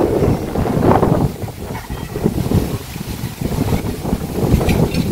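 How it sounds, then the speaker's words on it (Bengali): Wind gusts through a Bangladeshi village ahead of rain, a loud steady rush with buffeting bursts on the microphone and no voices. "শুধু জড়িয়ে একটু বাতাস, তো এইটুকুই আর কিছুই না, বাতাস ছাড়ছে।"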